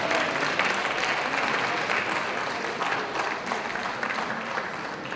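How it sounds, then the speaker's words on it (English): A dense, steady round of applause from an awards ceremony audience at the IPM 2019 Awards, greeting a Practitioner of the Year winner; the clapping holds at an even, full level throughout with no pauses. "Keep that round of applause coming."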